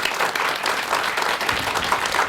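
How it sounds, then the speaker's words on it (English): Applause from a live audience at a recorded talk show, a steady wash of clapping filling the short stretch without any clear speech. "So let's give one big round of applause and thank the guys for sticking around."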